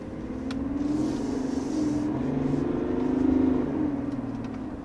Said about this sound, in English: So that was a little quick punch of the accelerator